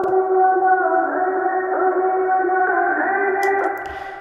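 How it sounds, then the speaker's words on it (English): Kashmir sample loop playing in a music track, a sustained layered tonal phrase with shifting notes and a faint low pulse underneath, steady and loud before easing off at the end. "then I added this Kashmir loop"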